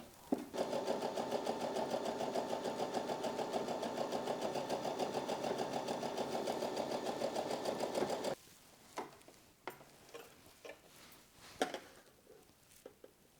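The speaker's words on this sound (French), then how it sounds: "je vais faire une couture zigzag tout le long" A sewing machine runs a zigzag stitch along fabric for a fruit and vegetable bag, a steady fast mechanical whirr for about eight seconds, then stops, leaving quiet handling clicks and rustles.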